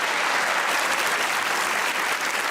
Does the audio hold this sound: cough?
no